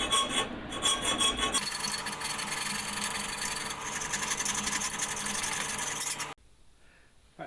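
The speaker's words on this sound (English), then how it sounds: "Still going to need a little bit of filing in the corners and stuff" A hand file rasps steadily against the corners of a handmade metal sign, continuous close scraping strokes that run without pause and then stop abruptly near the end, leaving near silence.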